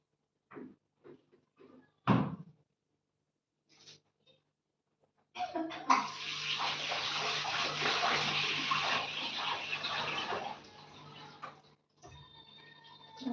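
Cold tap water running while dishes are washed, a steady close rushing stream for several seconds, preceded by scattered clinks and knocks and followed by quieter dripping and rattles.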